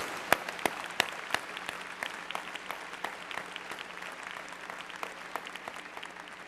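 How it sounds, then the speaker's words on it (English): Applause from a university commencement audience in Oregon, 2009, sounds fairly faint and distant, a thin spread of individual claps with a few sharp close ones standing out, steady throughout. "Please applaud him in absentia."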